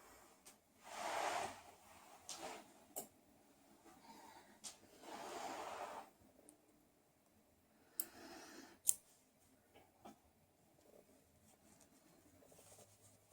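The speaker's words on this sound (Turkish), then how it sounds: "Şimdi makasımı alayım." Scissors snipping yarn after finishing a crocheted honeycomb-pattern baby blanket, faint close clicks and a few soft sharp snips amid quiet rustling.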